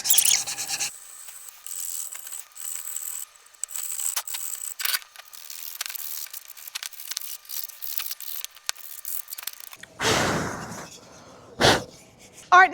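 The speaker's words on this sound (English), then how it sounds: "I'm just going to have to hand sand it." Hand sanding rasps across a wooden piece salvaged from a pontoon boat, a series of short scratchy strokes with quiet gaps between them, followed by a few louder, harsher swipes near the end.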